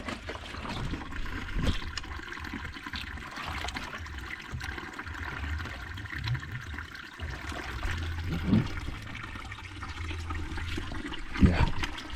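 Water being fetched into a cooking pot at a home's water source in rural Kenya during the rainy season, a continuous close splashing and trickling with a few louder sloshes.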